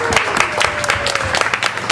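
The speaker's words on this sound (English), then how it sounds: "Let's also give a big round of applause for Cafe Gratitude." An audience at a live Monday night talk on superfoods applauding for a cafe, brisk scattered clapping from a modest crowd, with a cheer or voice briefly rising over it.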